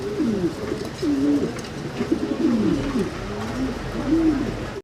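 King pigeons, dun-coloured birds kept at a pigeon farm, coo steadily in repeated low, rolling phrases that overlap close by, with no talking.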